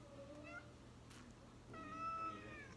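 A house cat meows several times close by, with a short cry early on and a longer, louder meow in the second half, over a faint steady hum.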